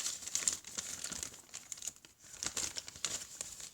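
Paper crinkles and rustles as a slime package is opened, a run of soft, close crackles and handling sounds that pause briefly and then continue.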